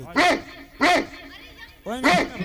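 A voice imitates a small village dog from Bihar barking, giving three sharp yapping barks in quick succession, close and loud.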